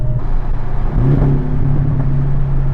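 A Porsche 718 Cayman GTS fitted with a Fabspeed Supercup exhaust drones steadily and loudly, its engine note climbing slightly in pitch as the turbo spools, with no talking.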